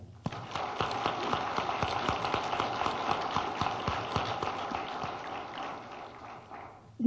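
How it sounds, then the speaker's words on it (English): Graduates at a 2018 Intel College graduation ceremony break into a dense, steady round of applause, many hands clapping continuously for about seven seconds at an even level before fading at the end. "join me in acknowledging this vital support with a round of applause"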